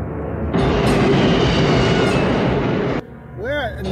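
A train heard in a movie scene: a loud, steady rumbling roar of rail travel that swells in, holds for a few seconds, then cuts away to quieter sound with a brief warbling tone.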